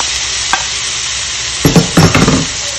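Lamb kidneys sauté with garlic in a pan, giving a steady close sizzle. A brief clink comes early, then a run of scraping stirs near the end.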